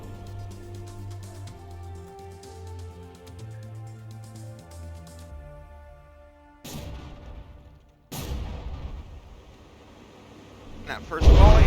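A battleship gun volley in the video game From the Depths: after a stretch of low droning engine tones, sudden sharp booming blasts hit in quick succession and grow heavier toward the end, with impacts loud and close.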